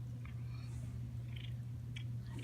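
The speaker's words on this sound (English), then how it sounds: "There's a kitty cat." A pet cat with many teeth removed purrs softly and steadily nearby, a faint continuous rumble with a few small background noises over it.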